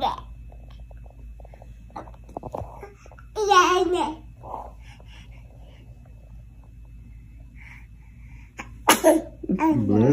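A sneeze bursts out clearly near the middle, followed by another sharp sneeze-like burst toward the end, with baby babbling and soft voices around it in a quiet indoor room.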